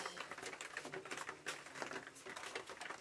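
Rain falling outside an open window, a steady dense patter of drops spread evenly through the clip with no voices.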